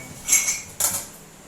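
Dishes and cutlery clatter during dish washing in a home kitchen, two separate bright clinking bursts a moment apart, close and fairly loud, with no voices.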